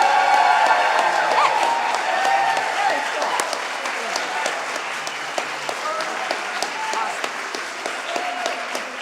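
A large graduation commencement audience at Stephens College breaks into sustained applause with scattered cheers and whoops, a dense, steady wash of clapping in a big hall that eases slightly over time.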